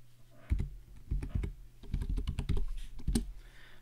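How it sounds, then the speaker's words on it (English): Password being typed on a computer keyboard while logging into a networked machine: bursts of close, crisp key clicks in quick uneven runs with short pauses between them, no talking. "All we gotta do is put in a password,"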